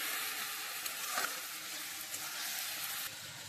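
Sponge gourd (dhundol) frying with salt in a pan gives a soft, steady, fairly faint hiss that continues without a break, with a few light stirring knocks and no talk.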